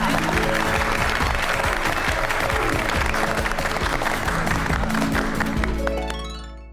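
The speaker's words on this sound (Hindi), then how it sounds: "बबीता जी के लिए जोरदार तालियां।" Studio audience applause at a stage event in a Taarak Mehta Ka Ooltah Chashmah comedy film, a loud steady wash of clapping mixed with strong background music that swells and ends in a fading held chord.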